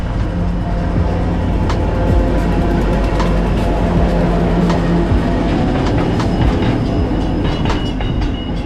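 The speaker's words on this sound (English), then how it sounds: "Fremantle is actually home to the longest cargo train in the whole world" A very long cargo train rolls steadily past in Fremantle, a continuous loud rumble with rhythmic wheel clatter and clicks on the rails throughout.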